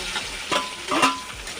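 Sliced onions sautéing in a pan produce a steady sizzle with a couple of distinct stirring scrapes, close and fairly loud, with nobody talking.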